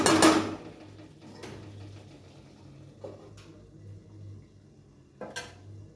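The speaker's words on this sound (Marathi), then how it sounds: "याच्यावर आपण 5 मिनिट झाकण ठेवून देणार आहोत" A metal lid is set onto a pan of capsicum curry with a sharp clatter, followed by a few lighter clinks and taps of cookware, close by with a low kitchen hum and no talking.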